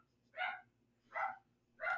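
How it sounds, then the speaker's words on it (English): Three sharp dog barks in an even rhythm, each one short and fairly distant, set against a quiet indoor background with a low steady hum. "Dogs, I don't know if you can hear them."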